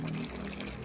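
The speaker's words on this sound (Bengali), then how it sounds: "তারপর দিয়ে দেব ঘি, অল্প ঘি দিয়ে দেব।" A small amount of ghee is poured into a cooking pan, a brief, soft, faint liquid pour with no voices.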